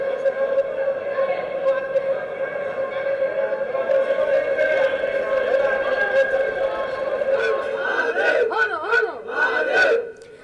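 A huge crowd of devotees fills a Jyotirlinga temple on Mahashivratri in Maharashtra, a dense, loud roar of many voices with sustained chanting tones and rising cheers toward the end.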